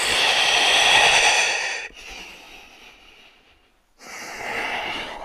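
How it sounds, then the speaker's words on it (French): Close, steady breathing during a chest-raise exercise, a long airy breath in, then a softer and fading breath out, a brief pause and another breath starting, with no talking. "ma respiration peut être complètement continue."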